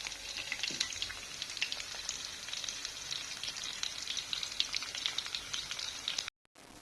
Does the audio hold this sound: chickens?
no